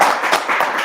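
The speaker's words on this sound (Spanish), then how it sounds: "agradecerle a Daniel, creo que se merece un aplauso." Applause at the close of a university seminar session, a dense, brief patter of many hands clapping at close range.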